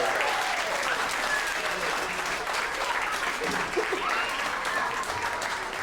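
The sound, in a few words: audience applause for the ensemble camp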